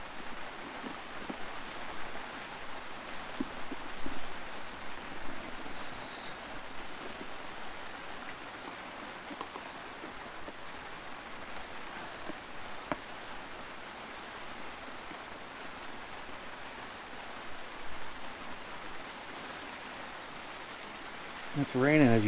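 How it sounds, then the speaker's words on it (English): Steady soft rain hisses throughout, with occasional faint knocks and rustles nearby and no talking. "It's raining, as you can hear"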